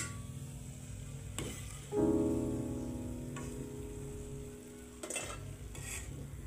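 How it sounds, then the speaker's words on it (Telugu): Steady sizzling of amaranth-leaf pakoda frying in hot oil, with occasional clinks and scrapes of a utensil stirring in a pan, no voices. "ఇలా వేయించుకోవాలి."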